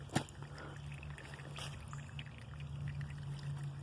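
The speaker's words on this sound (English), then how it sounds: "There's still some water flowing through this runoff stream." A thin runoff stream in the woods, carrying only a little water over rocks, trickles softly and steadily nearby, a faint continuous flow with a brief knock near the start.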